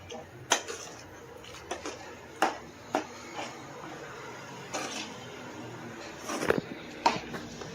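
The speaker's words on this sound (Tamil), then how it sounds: "நல்லா கலந்து விட்டுட்டு மூடி வச்சிடலாம்" Food being stirred in a cooking pot and a lid set on it, heard as scattered light metallic clinks and scrapes of utensil against pot, fairly quiet with gaps between knocks.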